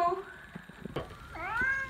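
A cat meows twice, a short call early on and a longer rising meow near the end, close and fairly clear, with some background talk and knocking between.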